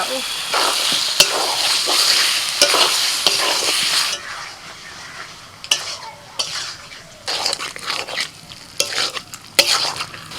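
Loud frying sizzle with repeated scraping and clanking as a spatula stirs fried potatoes into spice paste in a pan, the scrapes coming in irregular bursts.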